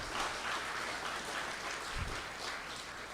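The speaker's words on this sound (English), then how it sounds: "So a quick round of applause for every volunteer who brought us here tonight." Faint, distant applause from an evening gathering's audience thanking volunteers, a soft steady patter of clapping with a brief low thump near the middle.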